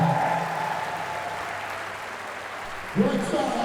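A crowd of nearly 3,000 applauds steadily at a strongman world championship event, a dense wash of clapping throughout with a brief swell near the end and a voice talking over it.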